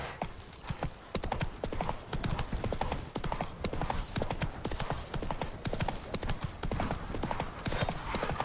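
Roach the horse's hooves clip-clopping in The Witcher 3, a brisk, even run of close hoofbeats on hard ground that continues throughout.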